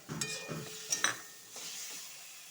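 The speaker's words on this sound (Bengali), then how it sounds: "কাজুর পেস্টটা দিলে আবার নাড়াচাড়া করবো ভালো করে" Spice masala with cashew paste stirred and frying in a pan for a katla fish curry: a soft, steady sizzle with a few brief scraping stirs, close and fairly quiet.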